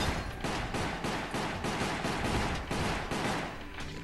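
Rapid repeated gunfire from the game Resident Evil Umbrella Chronicles, a steady run of rattling shots in quick pulses, loud and continuous with no talk.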